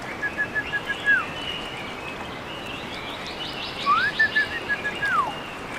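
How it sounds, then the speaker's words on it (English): Birds chirp inside a VR video game, sounding as a short series of clear whistled calls over a steady hissy background, repeated twice with a pause between. "Birds."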